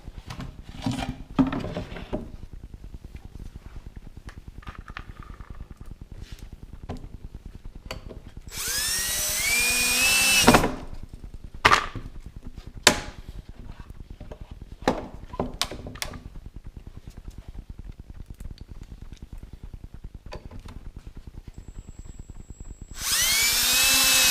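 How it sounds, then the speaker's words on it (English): A power drill drives screws into a 2x4 wooden piece being fixed to an IV stand, with two loud whirring bursts of drilling amid scattered knocks, scrapes and handling of wood and tools close by. "All I gotta do is screw on this last piece and attach it to the IV stand."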